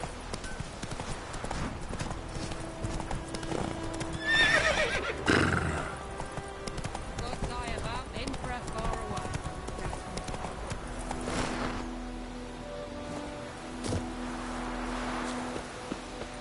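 Roach the horse trotting in The Witcher video game, with rhythmic hoof clip-clops and a couple of neighs and whinnies over soft game ambience.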